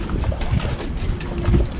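Wind buffets a sailboat moored in Banyuls harbor, a rough, continuous low rumble of gusts pressing on the microphone, with faint rattling fittings beneath.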